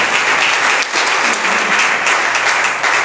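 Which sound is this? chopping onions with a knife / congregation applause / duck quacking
congregation applause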